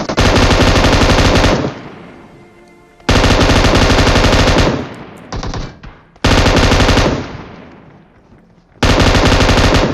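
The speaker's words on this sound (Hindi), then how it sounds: "मेरे को पता था मेरे पास एक ऐसी गन है जिसमें इतनी सारी बुलेट होती हैं" Machine gun in the Free Fire video game firing in long, loud sustained bursts, three to four volleys separated by short pauses, close and dominant with no talking.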